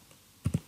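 A computer keyboard being typed on at a desk, a couple of quick close key clicks after a quiet pause, fairly faint.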